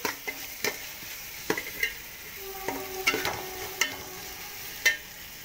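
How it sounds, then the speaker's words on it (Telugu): Ginger garlic paste frying in a pan for prawn biryani, a soft sizzle under repeated scraping and clinking stirs of a spoon against the pan at an irregular pace; no talking. "ఈ అల్లం వెల్లుల్లి పేస్ట్ పచ్చివాసన అంతా పోయే వరకు వేసుకొని"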